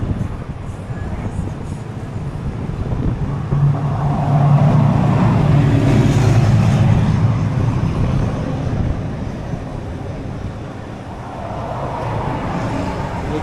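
Cars pass on a road near Daytona Beach with a broad traffic rumble that swells as vehicles go by and then eases, steady and moderately loud, while a person talks now and then.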